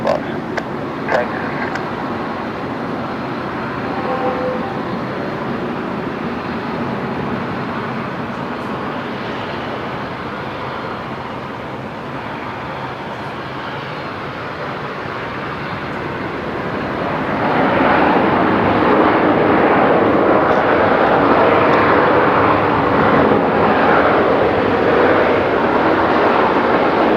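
A Qantas airliner arriving from Melbourne at Brisbane Airport at night, a steady distant engine roar that swells louder in the second half as the jet nears, with faint radio chatter beneath.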